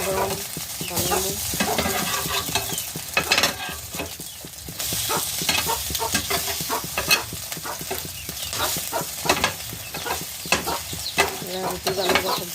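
An egg fries and is stirred in a hot pan, cooked fresh for a single homemade breakfast. Continuous close sizzling runs under steady scraping and stirring strokes.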